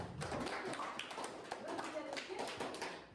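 Children in a seventh-grade Kazakh language classroom clap their hands, a dense patter of many palms running steadily throughout, with voices mixed in.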